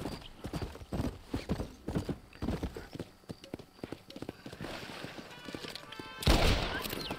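A horse in the video game Red Dead Redemption clip-clops along in a steady, close hoofbeat rhythm, ending in a sudden louder burst of noise.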